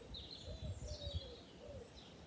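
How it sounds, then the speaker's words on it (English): Faint bird calls and soft chirps drift in from outdoors, quiet and intermittent over a low background rumble. "Be aware of the birds."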